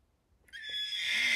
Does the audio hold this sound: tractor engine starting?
no